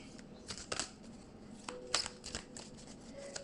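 Oracle cards shuffled and drawn by hand, giving a few soft, quick papery riffles and flicks spaced irregularly over a quiet room, with a faint tone near the end.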